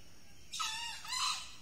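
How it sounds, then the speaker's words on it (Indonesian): A wild junglefowl rooster crows once at a distance in dense forest, a faint two-part call rising then trailing off over a quiet background. "masih ada ayam yang berkokok dan mau terpancing MP3"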